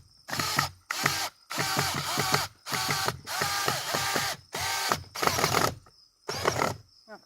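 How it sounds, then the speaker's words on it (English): A screw driven by a power driver into a reclaimed, rotted log garden bench, heard as eight or so loud close bursts of whirring ratchet-like driving, separated by short pauses. "I am going to go ahead and gently screw it in."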